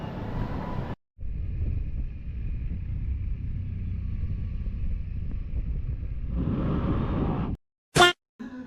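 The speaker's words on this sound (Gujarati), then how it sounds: "પવન ફૂંકાય છે જોરદાર" Strong wind buffets the microphone in a continuous heavy rumble for several seconds during cloudy, pre-rain weather in a Kathiyawadi village, broken by brief gaps and a sharp click near the end.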